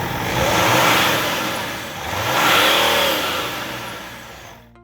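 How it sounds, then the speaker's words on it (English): A Range Rover 3.0 TD6 with a BMW M57 diesel engine revs up twice in broad surging swells that rise and fall over a steady mechanical drone, loud and close with no talk. "Start the engine"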